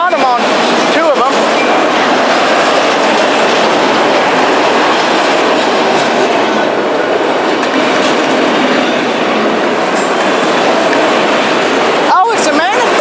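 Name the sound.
manifest freight train passing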